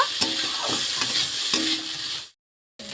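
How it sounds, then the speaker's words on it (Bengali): Fried cauliflower and potato are stirred through a spice masala in a hot pan, making a loud, steady sizzle with scraping stirs. It cuts off abruptly near the end, then briefly returns. "ফুলকপি আলু দিয়ে ভালো করে কষিয়ে নেব।"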